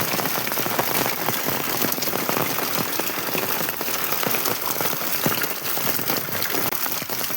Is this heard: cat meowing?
no